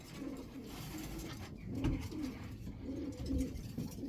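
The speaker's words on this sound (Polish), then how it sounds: "To od Ryszarda Pasonia zakupiłem 19 gołębi." Soft, low coos of breeding pigeons repeat in a gentle rhythm over a constant murmur of background noise, with no one speaking.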